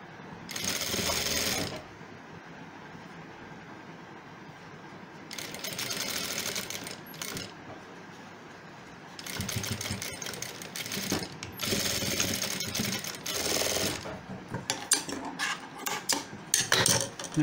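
A sewing machine stitching a shirt sleeve runs in close, rapid mechanical bursts, starting and stopping several times with quieter pauses between runs, no talk over it.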